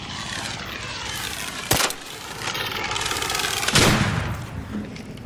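An approaching Rocketeer enemy in the video game ARC Raiders, a droning engine-like hum that swells with sharp bursts and blasts over a steady rumble, growing closer and louder.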